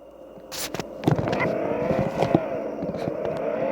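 Car engines in the racing game Extreme Car Driving Racing 3D, with a steady mid-level engine drone and a few sharper bursts and knocks over a light background ambience; no talking.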